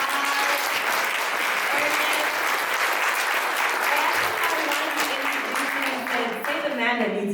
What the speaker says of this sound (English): we gotta give him a big round of applause